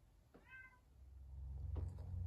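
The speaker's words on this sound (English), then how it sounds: "I had to pause there because my cat is doing whatever she does." A pet cat gives one short, clear meow, followed by a low rumbling background noise that grows louder. It is fairly faint and sounds indoors, with no one talking.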